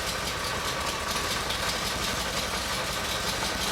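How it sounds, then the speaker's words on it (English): A car engine settling into a steady idle after fuel and vacuum hose work, a constant rough rumble with faint knocking, recorded close with no speech. "now she seems like she's going to idle"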